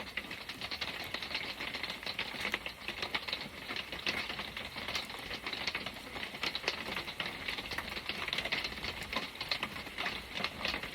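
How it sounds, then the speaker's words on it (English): Steady rain on an off-grid homestead, a dense, even patter that hisses on without pause for the whole stretch, moderately loud and close, with no voices over it. "Raining."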